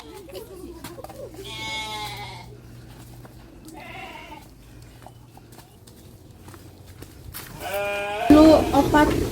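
Sheep bleat in wavering cries, two or three separate calls spread across the moment, mixed with people speaking in Sundanese, low farmyard background noise and a louder rustling burst at the end.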